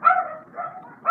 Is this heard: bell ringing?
no